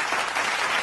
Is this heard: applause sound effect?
yes